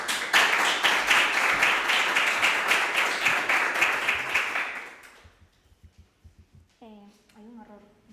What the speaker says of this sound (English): Please, an applause for her.